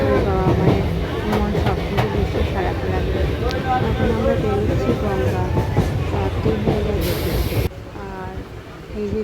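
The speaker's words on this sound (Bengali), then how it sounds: "ট্রেনের মধ্যে আছি ফাঁকা হয়ে গেছে ট্রেন অনেক আর আমিও ট্রেনের মধ্যে বসে আছি" Inside a moving train carriage, a loud steady rumble with rhythmic rail clatter, a voice talking over it, and a burst of hiss before the noise drops lower near the end.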